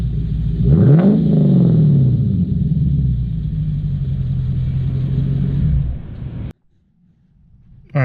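A 2009 Lexus ISF V8 engine revs up sharply, the pitch climbing and then settling into a loud rumbling idle close by, before cutting to near silence and a brief new sound at the very end.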